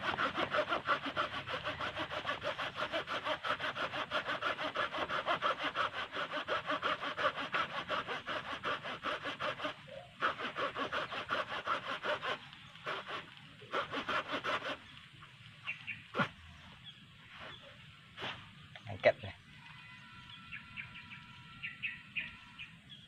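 A sharp hand saw cuts through a thick bonsai trunk (a 'babon' stock being chopped down), giving steady rapid back-and-forth rasping strokes for about ten seconds, then shorter broken strokes and pauses with birds chirping faintly outdoors.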